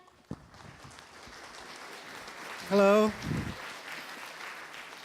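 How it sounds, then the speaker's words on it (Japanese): Soft, steady audience applause welcoming a creative director to the stage at an animation and mascot lecture, a faint continuous patter of many hands, briefly interrupted by a loud tonal beep and a voice saying a greeting. "大きな拍手でお迎えください。"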